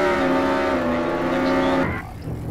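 Car driving in the Roblox video game Jailbreak, a loud steady engine hum with tonal harmonics that drops off abruptly near the end into a quieter rough rumble.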